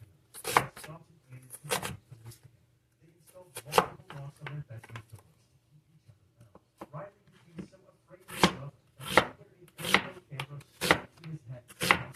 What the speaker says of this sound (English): Gotta get our mushrooms out. You know what? These will go faster if I cut it in half.